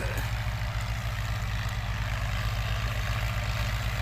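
A walking tractor idles in a sugarcane field, its engine a steady, loud, low chugging hum that runs without a break and without any voices.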